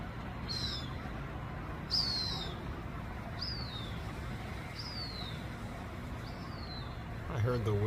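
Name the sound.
hawks calling in Los Angeles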